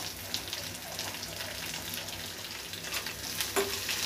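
Onions fry gently in a pan for carrot rice after the tempering has browned, a soft continuous sizzle heard close and fairly quiet, with faint stirring scrapes and no voices.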